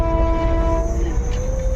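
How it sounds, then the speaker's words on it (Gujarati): A train ride in a general-class carriage on a trip to Uttarakhand, with a steady rolling rumble and a train horn sounding clearly before fading partway through. "હજી તો ટ્રેનમાં બેઠા છે"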